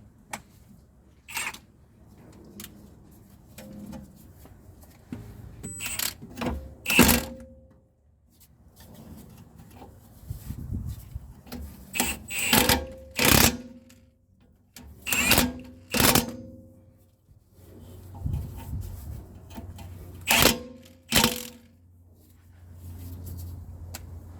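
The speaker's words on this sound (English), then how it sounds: "ratcheting with the torque wrench" A torque wrench ratchets on the rear disc brake conversion of a 2010 Toyota Corolla 1.8, sharp clicking bursts in separate runs with quiet gaps, close up and with no voices.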